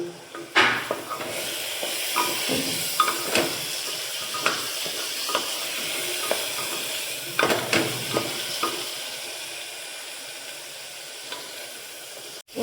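Tomatoes fry in oil for egg biryani, a soft steady sizzle under intermittent clinks and scrapes of a spoon stirring against the pot.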